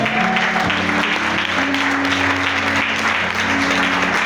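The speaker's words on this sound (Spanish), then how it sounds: "Aplauda a Jesús de Nazaret." A church congregation applauds during a sermon, steady dense clapping filling the hall continuously from start to finish with no voices over it.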